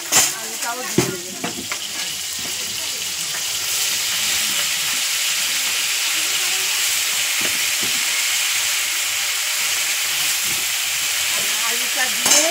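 Chili and potatoes frying in a pan for a Bengali white potato chorchori, giving a continuous close sizzle and hiss with a few stirring scrapes near the start and end.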